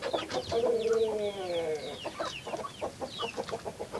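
Chickens cluck and squawk close by at a feeder in a busy burst, overlapping calls tapering into quicker, softer clucks; no talking.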